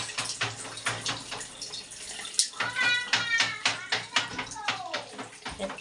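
Dirty water from a building's reservoir tank gushes out of a pipe in close, pulsing surges, while a voice speaks and a cat-like cry rises partway through.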